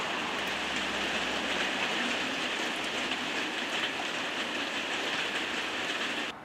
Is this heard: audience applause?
no